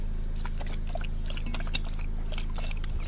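A short-faced dog laps water from a bowl, a quick run of soft wet splashes and drips close to the microphone over a steady background hum.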